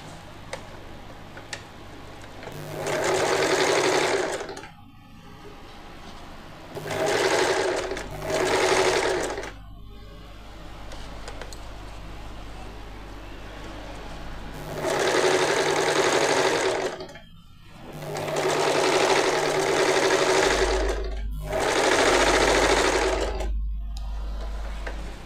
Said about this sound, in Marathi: तर आता दुसऱ्या साईडला आपण शिलाई मारून घेऊयात